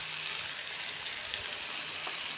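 Onion and tomato frying in a pan make a continuous, even sizzle with fine crackling, close and steady with no talking.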